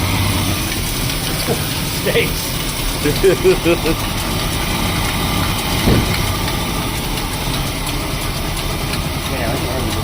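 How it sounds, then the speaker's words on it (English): An old Mopar barn-find car's engine idles steadily after sitting for years, a low continuous rumble with a few light knocks, while people talk nearby. "I wasn't expecting it to just sit and idle, honestly."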